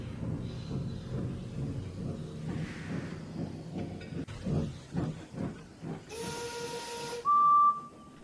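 A steam engine puffs into a rail yard with rhythmic chuffs building in strength, followed by a burst of hissing steam and a sharp whistle blast near the end.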